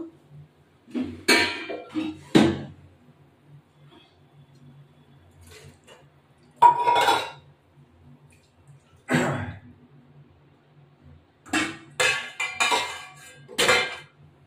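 A bowl clinks and knocks against a pan in several separate bursts while its rinse water is poured into a hilsa mustard curry, with quiet gaps between the clatters and no talk.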